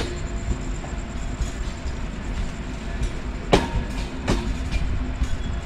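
An Intercity Chitra Express passenger train rumbles steadily into Chuadanga railway station at night, heard from on board, with a continuous low roar and a couple of sharp metallic clacks from the wheels.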